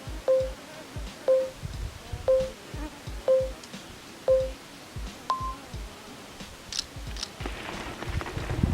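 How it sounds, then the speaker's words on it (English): A phone camera timer gives five short electronic beeps at a steady one-per-second pace, then a slightly higher final beep, followed by faint background noise. "Now wait till I start hearing that beep and then I run."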